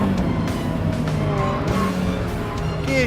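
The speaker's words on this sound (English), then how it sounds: "Gear shift, lovely." Ferrari F40 on track, engine loud and close with a sustained drone that dips and rises through a gear shift, tyres squealing and scrubbing under hard driving.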